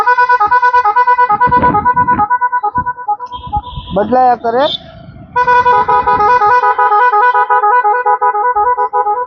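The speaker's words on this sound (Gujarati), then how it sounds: "જેવા હોર્ન 18 હોર્ન વાગે મિત્રો" A newly fitted multi-tone car horn plays a loud, continuous melodic sequence of shifting tones, broken by a short pause and a brief voice, then resumes steadily to the end.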